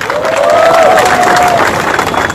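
A large crowd at an outdoor student protest against the Citizenship Amendment Bill in Guwahati claps steadily for the Tripura Student Federation, a loud dense wash of applause with a faint cheer rising over it.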